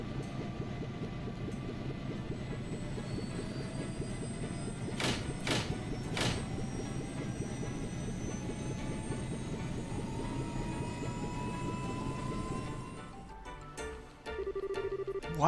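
A royal guard warship lifting off in the video game Trails in the Sky FC, a sustained low engine drone with rising whine tones and a few sharp bright bursts midway, cutting out near the end.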